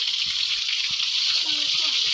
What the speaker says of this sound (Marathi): वर्षाचे 12 महिने हा पाणी असाच चालू असतो